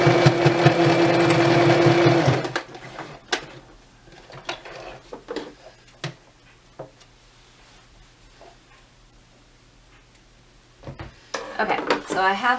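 A sewing machine stitches the folded corner of a duvet cover for about two seconds, a loud steady whir, then stops. Quieter handling clicks and rustles of fabric follow, with the machine briefly starting again at the end.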